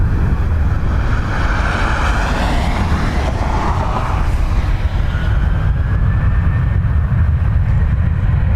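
A plane taking off from runway 10 right at Dublin Airport: a loud, steady roar of jet engines climbs and shifts in pitch over several seconds, with constant wind-like rushing and no voices.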